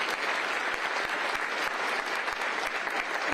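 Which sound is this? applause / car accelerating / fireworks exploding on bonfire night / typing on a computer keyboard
applause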